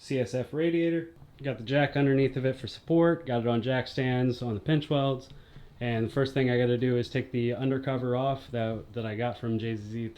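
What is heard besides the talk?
No everyday noise stands out behind the speech.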